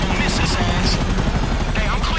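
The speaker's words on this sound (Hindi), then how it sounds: "हेलीकॉप्टर" Helicopter in Grand Theft Auto V, a loud continuous rotor chop filling the scene, with game sounds over it.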